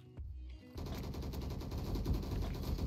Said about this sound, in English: LMGs shooting right now.